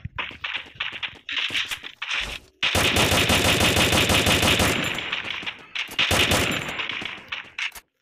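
Automatic gunfire from the game Free Fire: short bursts give way to a long, fast, unbroken stream of loud shots with metallic clanking, then a few more bursts near the end.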